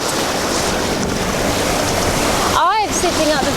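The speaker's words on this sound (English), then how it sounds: "these waves are massive" Large sea waves seen from a boat crossing from Eastbourne toward the Solent roar and wash continuously with heavy wind buffeting, followed by a brief burst of excited, shrill voice near the end.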